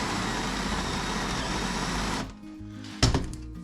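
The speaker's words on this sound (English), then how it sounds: "I found a router bit that I had that's a V bit, but it's got carbide edges on it, so I'm thinking I might be able to cut through this metal" A carbide-edged V router bit cuts into metal while making a workbench, a loud, dense buzzing whine that stops abruptly partway through, leaving quiet hum before a brief sharp knock.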